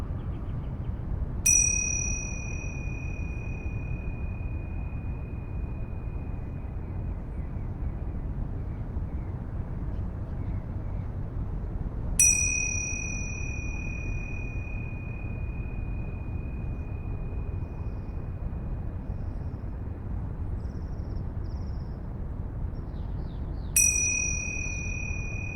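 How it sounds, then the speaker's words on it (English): Bells struck three times, about ten seconds apart, each strike a bright ring that sustains and slowly fades over a low, steady background hum. "I'm going to ring these bells 3 times"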